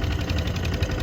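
A tractor engine idles close by, a steady low rumble with faint rhythmic knocking, heard alone in a short burst.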